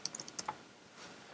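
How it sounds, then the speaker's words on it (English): A computer keyboard clicking as a student types an assignment in Google Classroom, a quick run of faint keystrokes, then a pause. "So the student would simply begin typing in on this."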